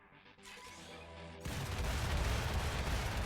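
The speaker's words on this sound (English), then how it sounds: "So we have a lot of cannons now." Cannon fire in the video game Sky Cannoneer, starting with a quieter rumble and then a sustained loud barrage of booming, crashing blasts.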